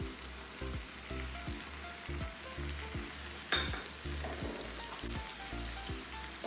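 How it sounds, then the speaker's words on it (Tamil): Chopped tomatoes sizzling in a hot pan over golden fried onions for a paneer curry, with a constant frying hiss broken by rhythmic scraping stirs of the spoon against the pan. "இந்த தக்காளியை சேர்த்துருவோம்."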